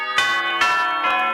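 Neighbouring church bells chime the quarters in a community theatre staging of A Christmas Carol: three resonant, ringing strikes spaced evenly about half a second apart, each decaying into the next, with no voices.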